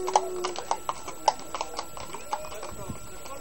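Horse hooves clip-clop in a steady, moderately paced rhythm, a little distant, with a faint steady whine and soft background murmur.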